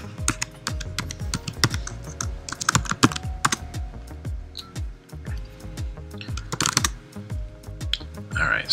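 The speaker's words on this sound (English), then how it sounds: "Then I type in my password." A password is typed on a Mac keyboard in quick, uneven bursts of crisp key clicks, close and clear, with short pauses between runs and no talk.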